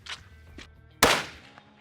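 A single rifle shot fired at a 200-yard target in snowy country, one sharp loud crack followed by a brief decaying tail, with a few faint softer sounds before it.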